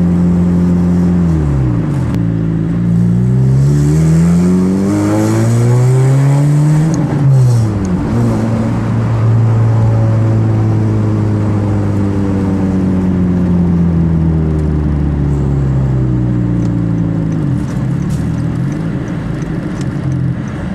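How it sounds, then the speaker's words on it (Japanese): Customized Honda Fit Hybrid revving through its aftermarket exhaust muffler, loud and close, with repeated rising and falling sweeps of engine pitch across the whole stretch and no talking. "なんかやっぱマフラーいい音鳴るわ。"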